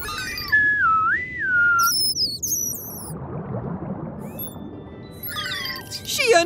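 A person whistles in rising and falling tones, imitating a dolphin's signature whistle, with a few brief high chirps and a burst of lively whistling over steady background noise.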